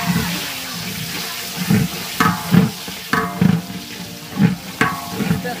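Chopped onions fry in oil for biryani while being stirred, a continuous sizzle broken by a series of rhythmic scraping strokes of the spoon against the pot, close and fairly loud.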